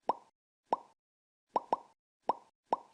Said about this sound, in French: jusqu'à disparaître alors dans un doux bruit de pop